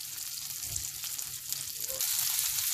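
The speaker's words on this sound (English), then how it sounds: "We're going to cook around 2 minutes, so all masala can be cooked with the paneer." Paneer sizzles and fries with masala in a hot pan, a steady close hiss and crackle that carries on throughout, with faint scraping as the pieces shift.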